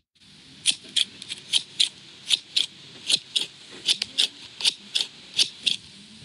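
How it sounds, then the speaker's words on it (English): Scissors cut through paper in a quick, steady series of about a dozen crisp snips, close and clear against a quiet background. "I was cutting paper, but it was scissors"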